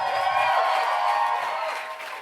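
Crowd applause and cheering for actor Zachary Levi at a Nerd HQ panel, a dense wash of clapping and voices that swells and then gradually fades.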